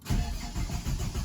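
A Ford EF car engine cranks and catches in a brief burst, with low, throbbing pulses close by and no voices.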